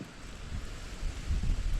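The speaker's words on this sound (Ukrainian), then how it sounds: "Зараз стало хмарно. Вітер, дощу нема." On a cloudy day, wind blows across a small boat on open water, heard as a faint, low, gusting rumble on the microphone that swells toward the end, with no voices.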